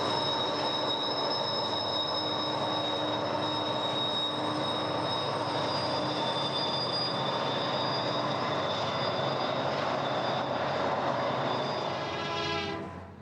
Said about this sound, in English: Southbound UP coal trains take different routes after they leave the joint line.